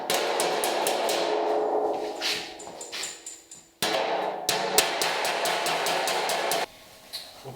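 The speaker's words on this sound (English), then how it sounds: "Then I'm going to hammer and dolly this flange straight" Rapid metallic hammer blows ring out as a hammer and dolly straighten a steel flange on a Bronco door-hinge and fender job, bursts of quick sharp taps with brief pauses between runs, close and loud.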